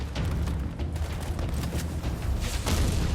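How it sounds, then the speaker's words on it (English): Continuous rapid fire from an automatic shotgun in the shooter game Warface, a dense unbroken barrage of booming blasts held steady for the whole stretch, loud and close. "This is a machine gun shotgun, by the way. I'm just holding the trigger down and it's shooting on its own."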